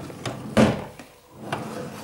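A bottom drawer in a craft room scrapes and knocks as it slides open, a few short wooden clunks and a brief rubbing slide, close and fairly quiet.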